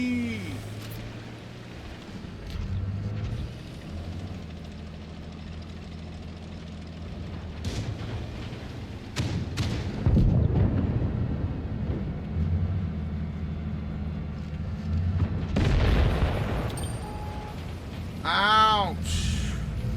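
Tank cannon shots and explosions in the video game WoT Blitz boom heavily over a low engine rumble, several loud blasts spaced out across the scene, with a person talking over the game.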